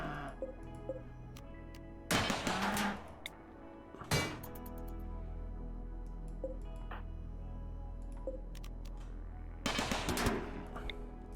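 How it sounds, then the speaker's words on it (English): Automated turrets firing in RimWorld, with bursts of gunfire at about two, four and ten seconds over a steady background of game ambience and smaller thuds. "these turrets are just firing on themselves"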